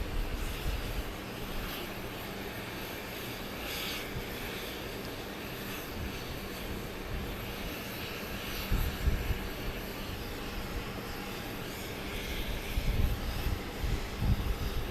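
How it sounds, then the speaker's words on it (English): A Southwest airliner taxis out at Dallas Love Field at night, bound for Nashville, its engines a faint, steady distant roar that swells slightly near the end over a low outdoor background. "Got a Southwest flight pulling out for Nashville"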